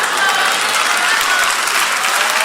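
A congregation applauds during a sermon, with dense, continuous clapping from a large crowd at a steady level and no speech over it.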